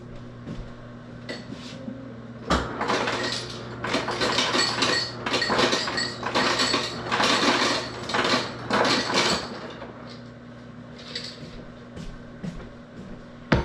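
Ice cubes clatter and clink into a cup in a quick burst of hard, bright knocks lasting several seconds, then a few stray clinks, up close.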